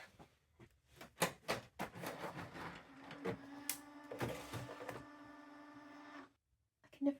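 A desktop printer prints labels on a different kind of paper, running as a steady mechanical whir with a humming motor tone for several seconds after a burst of handling clicks and taps, then stopping abruptly.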